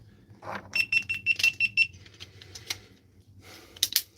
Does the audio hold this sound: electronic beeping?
yes